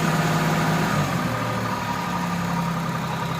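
A Suzuki Bolan engine idles slowly with its ISC sensor connected, a steady low rumbling drone with constant vibration, close and loud with no speech.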